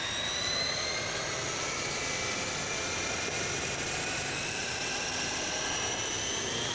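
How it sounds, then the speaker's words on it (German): A model helicopter's engine runs during an indoor flight demonstration, a continuous high turbine-like whine with slowly rising and falling tones, loud and steady throughout. "Dieser Hubschrauber, was hat der jetzt für einen Motor?"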